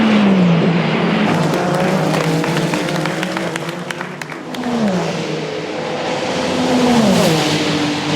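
Race cars at the 2023 24 Hours of Le Mans roar past, one after another, with rising and falling engine pitch and gear changes, loud and near, with crowd noise underneath.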